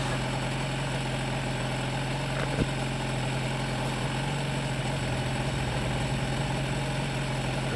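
A Suzuki RG two-stroke motorcycle engine, an RG500 or RG400, idles steadily and close by with a constant low hum, running on its own without talk throughout.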